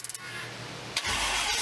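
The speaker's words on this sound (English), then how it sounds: "checked for fuel leaks, and it fired right up" A car engine fitted with a newly installed MSD Atomic EFI fuel injection system cranks briefly with a few quick starter pulses, then fires up and settles into a steady, close idle.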